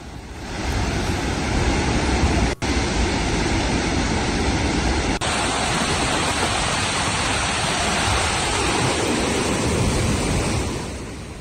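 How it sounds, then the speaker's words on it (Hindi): Water gushes from the opened gates of the Mahi dam in Rajasthan, a loud, continuous roar of rushing water that holds steady throughout with no voices. "तिरंगे की रोशनी में पानी के खलखल की आवाज ने उसको और भी ज्यादा खूबसूरत बना दिया है।"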